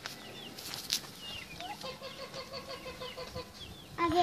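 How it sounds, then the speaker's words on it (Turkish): A chicken clucks at a home where kittens and ducks are kept, its calls faint and scattered over background noise before a brief, louder burst of clucking right at the end. "Tavuk var."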